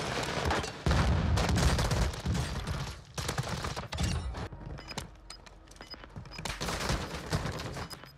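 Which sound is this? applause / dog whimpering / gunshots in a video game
gunshots in a video game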